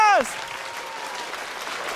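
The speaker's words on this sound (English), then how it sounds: "Give them a hand." Audience applause at a magic show, a short tonal sweep at the start then a steady wash of clapping that carries on loudly to the end, with a voice faintly mixed in.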